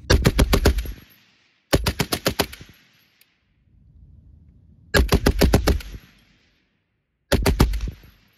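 A Vickers machine gun fires Mark 7 ammunition in four loud, close bursts of rapid shots, separated by short silences, with a faint rumble between the second and third bursts.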